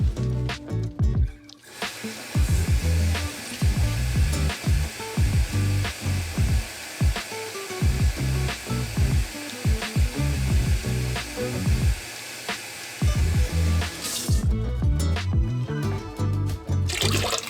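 Water pours steadily into a cooking pot to make broth for chicken stew, a continuous close splashing and gurgling that runs almost unbroken with brief pauses near the start and end.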